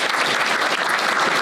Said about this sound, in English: Give John a round of applause